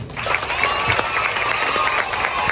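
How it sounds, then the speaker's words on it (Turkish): Applause and cheering from a crowd of schoolchildren welcoming new first-grade pupils at a school gathering, a steady dense clatter of clapping with shouts mixed in, sustained throughout. "İkinci bir alkışı da yeni gelen kardeşlerinize, birinci sınıf öğrencilerine hoş geldin diyelim mi?"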